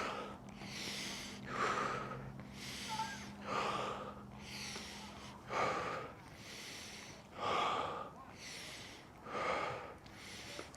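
Slow, deep rhythmic breathing during a mobility exercise routine, about seven long airy exhales and inhales spaced evenly through, close and clear with no talk.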